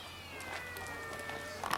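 Faint, drawn-out cat meows with gliding tones drift over a quiet background, with no one talking.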